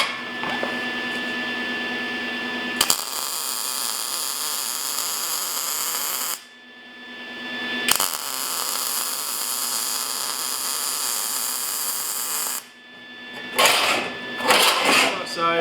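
MIG welder laying decorative beads on sheet metal for a forged skull facemask, a loud continuous crackling buzz in long bursts separated by brief pauses, close and alone.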